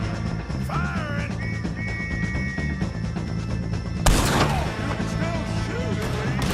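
Gunfire breaks out in Red Dead Redemption 2 amid tense game action, a sudden loud, sharp burst of shots midway that leaves a noisy rumble behind.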